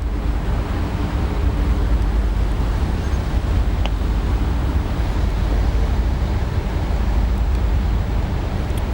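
Steady wash of Pacific Ocean waves and wind noise recorded from a ship leaving a channel for open sea, a constant loud rumbling roar with no distinct breaks and no voices.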